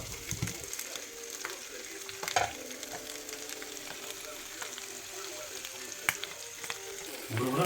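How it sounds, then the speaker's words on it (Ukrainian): Large shrimp frying in garlic oil in a pan give a steady, close crackling sizzle for the whole stretch, with a few sharp pops and spatters and no one talking. "Тепер наші креветосики у сковородочку."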